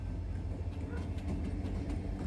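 Freight train led by Missouri Pacific locomotive number 3223 rolling down the middle track, a steady low rumble with faint rail clatter, fairly distant and quiet.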